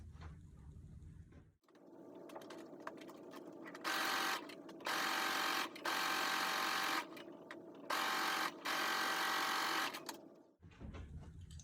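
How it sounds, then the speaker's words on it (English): Sewing machine stitching the long edges of a bookcase tote bag, several loud steady bursts of rapid mechanical whirring separated by brief pauses, bracketed by quieter handling at start and end. "Then I'll sew the 2 long edges."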